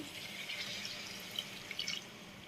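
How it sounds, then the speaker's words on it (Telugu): Water trickles and splashes softly into a pot of mutton boti curry for a couple of seconds, a faint steady pour with small drip-like bursts. "ఇప్పుడు మనం ఇందులోకి తగిన వాటర్ అంటే ఎక్కువ పోసుకోవద్దు"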